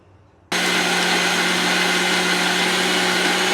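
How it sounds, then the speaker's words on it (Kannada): A blender grinding a smoothie switches on abruptly and runs at a steady, loud, high whine with a constant motor hum, close and alone with no talk. "ಸೊ ಇವಾಗ ಇದನ್ನು ನುಣ್ಣಗೆ ಗ್ರೈಂಡ್ ಮಾಡ್ಕೊಳ್ಳೋಣ"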